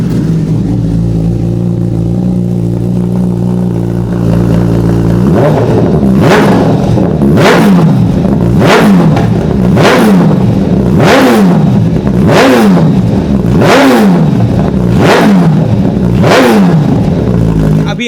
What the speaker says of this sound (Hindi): एक बार एग्जॉस्ट सुनते हैं कि भाई क्या साउंड करता है ब्रॉक्स का एग्जॉस्ट।